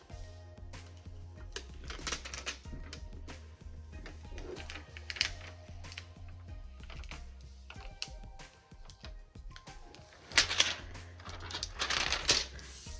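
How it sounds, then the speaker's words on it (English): Transfer tape being peeled off a Cricut paper craft project, close crackling bursts of tearing and rustling in irregular pulses over a faint background hum, no talking. "Now it's time to peel the transfer tape."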